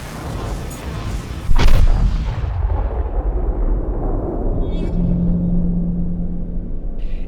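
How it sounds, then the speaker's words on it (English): In the video game The Witness, a single heavy boom plays when a puzzle is solved, hitting suddenly and rolling away into a long, low rumble like distant thunder, followed by faint high tones. "It's a loud booming sound, akin to thunder."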